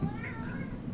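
A cat gives a single short, drawn-out meow, moderately close, over a low murmuring background.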